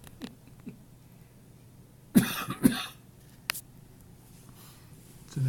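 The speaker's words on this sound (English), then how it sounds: "It's an asthmatic cough." A few short coughs sound outdoors beside melting ice near Two Harbors, in a brief cluster of two or three quiet barks over faint background hiss.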